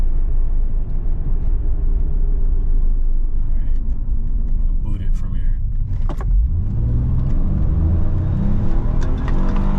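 A Nissan 300ZX accelerates hard, its engine rumbling loud and close inside the cabin as the pitch climbs steadily through the revs, with road noise underneath.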